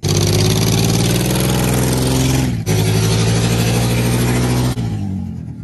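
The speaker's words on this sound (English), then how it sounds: "You hear that noise under that hood right there?" A truck engine revs loudly and close by, a deep throaty roar climbing in pitch, dropping briefly, then surging again.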